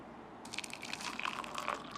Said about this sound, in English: So I'll add some hot water right now.